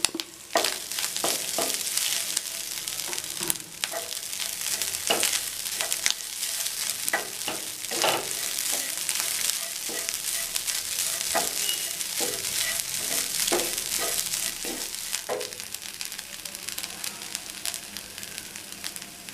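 Grated coconut sizzles and crackles in a hot pan for coconut rice, a dense steady frying hiss broken by frequent scraping stirs, close and fairly loud with no talking.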